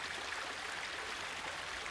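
Steady broadband rush of river water flowing past, continuous and even with no pauses, close by and fairly quiet, with no voices.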